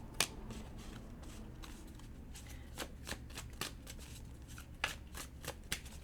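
A deck of tarot cards being shuffled close by, with repeated crisp riffling bursts and card flicks in an irregular rhythm over a faint room hum.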